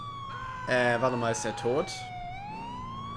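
Police siren in GTA IV wailing steadily throughout, a rising and falling electronic tone that stays loud behind someone speaking briefly in German in the middle.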